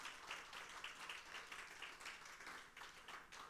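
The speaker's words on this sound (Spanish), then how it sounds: "Otro aplauso al Señor en este lugar." A church congregation claps together in praise, a faint, distant patter of many hands with slightly pulsing rhythm, sustained for a few seconds.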